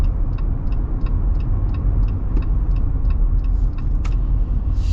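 A 2025 Jeep Gladiator Mojave X with solid axles drives along with a steady loud engine and road rumble from inside the cab, with faint regular ticking over it.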